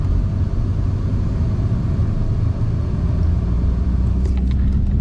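Old classic cars driving along a street in Havana, Cuba, a steady low engine rumble with continuous traffic noise close by, no voices.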